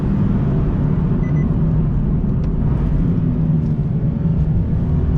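Inside a 2019 Nissan 370Z Roadster convertible at speed, a loud steady rush of wind blends with deep road and engine rumble, a continuous broadband roar with no talk.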